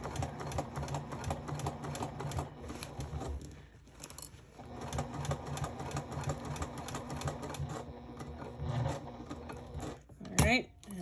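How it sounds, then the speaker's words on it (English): A sewing machine stitches straight across a side panel for a garment pattern, its rapid needle clatter running in long steady bursts with short pauses for pivoting, close by, while a voice talks throughout. "So we're sewing straight across the side panel."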